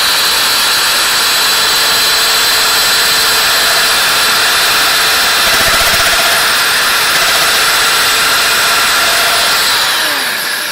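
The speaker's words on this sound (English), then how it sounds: "The dust extractor is working." A dust extractor roars loud and steady while a mortise is cut for a slip tenon during a garden bench repair, a close, continuous whooshing drone with a faint shift of tone midway, no voices.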